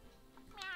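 A cat's meow in the SpongeBob SquarePants: Battle for Bikini Bottom game, one brief, faint, rising call at the very end after quiet background.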